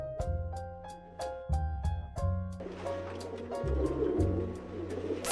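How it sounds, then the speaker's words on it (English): Pigeons and common doves cooing from a played bird-sound recording, a steady series of low hooting coos repeating in a slow rhythm, moderately loud with a faint noisy wash building underneath partway through. "there is just a pigeon sound"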